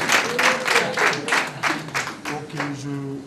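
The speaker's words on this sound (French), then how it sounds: "Applaudissez-la." Short bursts of clapping from a small crowd at a civil wedding ceremony, a steady patter of hands rising and fading over speech from an officiant.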